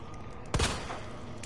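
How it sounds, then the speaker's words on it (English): A single sharp gunshot in the video game Resident Evil 2, a brief loud bang over quiet ambient game noise. "Two headshots."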